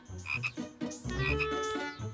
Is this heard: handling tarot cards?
no